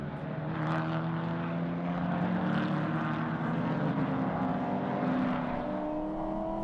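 NSW Production Touring Cars race at Wakefield Park, their engines droning in layered, rising and falling tones as several cars pass at mid distance, steady and continuous with no talking.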